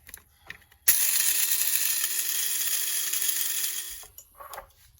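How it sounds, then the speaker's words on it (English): Eggshells are ground into powder in a jar by a motorized grinder, a loud steady whirring grind lasting about three seconds before cutting off, with quieter handling noise before and after. "And you just grind it up."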